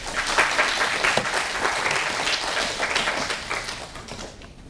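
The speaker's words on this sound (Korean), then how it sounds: "박수 한번 주세요" An audience at a university admissions strategy seminar gives a sustained burst of clapping that lasts nearly five seconds and fades slightly at the end.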